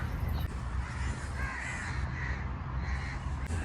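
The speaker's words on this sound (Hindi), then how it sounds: "और कौवे बहुत हैं यहाँ पर, सबसे ज़्यादा कोई पक्षी है तो कौवे ही है।" Crows caw repeatedly in a park in Muscat, Oman, their harsh calls overlapping at moderate distance over a steady low rumble of outdoor background noise.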